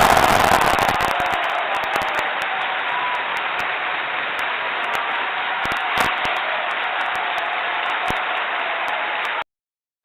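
Dense, steady applause from an audience at a live wrestling podcast event, loud and continuous for about nine seconds before cutting off abruptly, with no speech over it.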